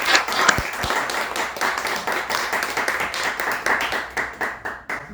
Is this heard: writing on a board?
no